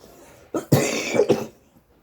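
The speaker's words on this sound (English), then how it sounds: "excuse my cough" A few harsh coughs in close succession from a single person, near and clear, with a short throaty burst followed by two more, then quiet.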